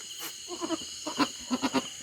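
A goat bleats shortly after giving birth on a rural farm, a few short nasal calls, with the last three coming in quick succession at close range against a quiet background.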